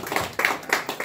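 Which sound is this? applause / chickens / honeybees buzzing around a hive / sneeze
applause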